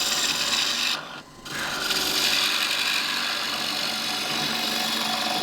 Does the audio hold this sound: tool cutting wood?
yes